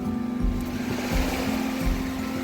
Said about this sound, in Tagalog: Ay, malakas ang alon.